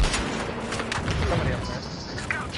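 Rapid gunfire and booms ring out from enemies up on a hill in the shooter game Battlefield Hardline. The shots are scattered and medium-distant and sit under a player's talking.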